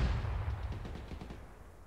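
A cannon firing in a war video game: a single deep, booming blast with a rumbling decay that fades over about two seconds, heard alone.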